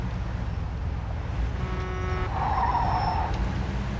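A 1950s-style car driven in Mafia 2 hums along steadily with a continuous engine drone and road noise, a brief tire squeal and skid rising near the middle before the cruise resumes.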